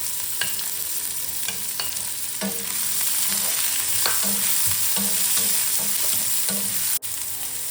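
Onion and garlic sizzle loudly in a hot pan with urad dal, a steady crackling fry broken by stirring scrapes and clinks of a spoon, with no voices.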